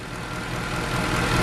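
A Mercedes C63 engine runs steadily after a sensor fault, a continuous low rumble that grows slightly louder toward the end, with no talk.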